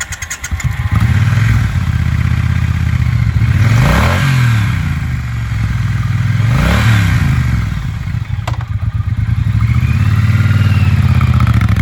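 A 2018 Triumph Bonneville T120 1200cc retro motorcycle idles loud and close, its engine note swelling in two slow revs before settling back to a steady run, with no voices.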